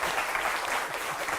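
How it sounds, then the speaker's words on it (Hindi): Audience applause on a Hindi television debate set, a steady, dense wash of many hands clapping at moderate level with no break across the short span. "जरा जोरदार तालियां"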